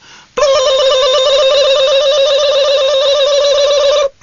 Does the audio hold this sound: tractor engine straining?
no